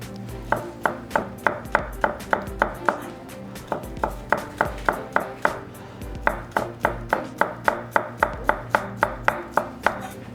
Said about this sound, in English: So we're going to cut these all the way down to the root nubs.